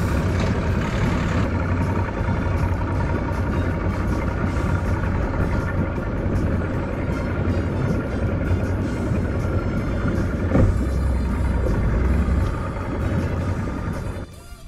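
A boat's engine running steadily after being restarted following a long idle spell, a loud constant rumbling drone with a faint mechanical whine over it, holding level before easing off at the very end.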